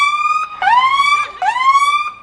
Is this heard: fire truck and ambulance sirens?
yes